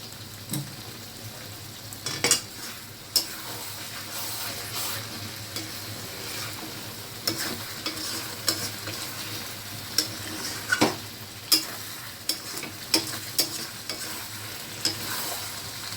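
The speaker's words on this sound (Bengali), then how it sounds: "খুন্তিটা তোমাকে নাড়িয়েই যেতে হবে" A spatula stirs curry masala frying in oil with repeated scraping and knocking strokes against the pan over a low, steady sizzle, close and wordless throughout.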